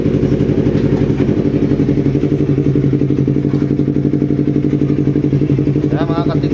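A Yamaha R3 motorcycle engine runs at a steady idle after an oil change, a close, loud, evenly pulsing thrum with some mechanical clatter, without talk.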